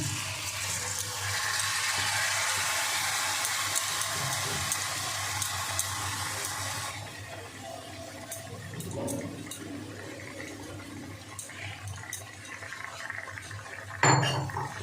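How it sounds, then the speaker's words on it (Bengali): Washed rice poured into a pot of cooked spice masala for egg pulao, a loud rushing hiss of grains and liquid followed by softer scraping and stirring with a metal spoon and a sharp clank near the end. "এবার আমার ধুয়ে রাখা চালটা দিয়ে দেবো।"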